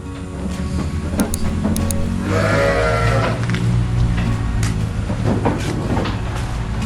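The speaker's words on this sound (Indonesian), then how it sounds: "bergerak di dunia ternak, khususnya domba Garut" Garut sheep bleat on a livestock farm in a loud, close chorus of overlapping wavering calls, with scattered knocks and shuffling noises underneath.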